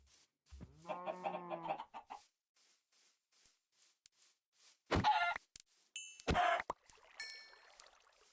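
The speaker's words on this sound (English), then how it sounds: "Chickens." Chickens in the Minecraft modpack Sevtech Ages give a few short clucks and squawks in separate bursts, fairly close, with quiet gaps between them.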